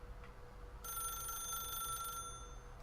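Phone in the video game The Stanley Parable giving a single sustained electronic bell ring of about a second and a half over a quiet low hum.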